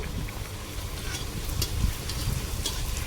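Luchi fries in hot oil, making a soft, continuous sizzle with faint bubbling and low rumbles. The frying sounds moderately close and fairly quiet, and no one speaks.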